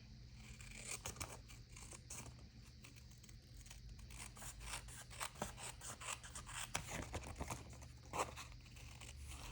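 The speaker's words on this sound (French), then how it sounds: "On vient découper." Scissors cut out paper cards with steady, close snipping and rustling paper, a run of repeated crisp cuts at moderate loudness and no talk.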